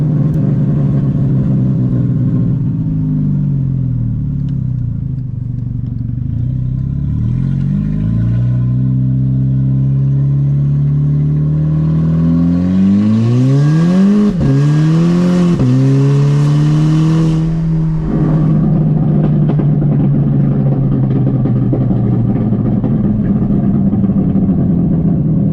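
A car engine is revved hard through a full-throttle acceleration pull, loud and close. Its pitch climbs steadily through several gear changes, then holds a high, roaring drone, with no talking over it.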